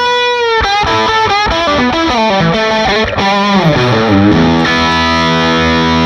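Heavily overdriven guitar amp with the bass control cranked up for a thick, boosted low end, chords ringing continuously and loudly, no voices.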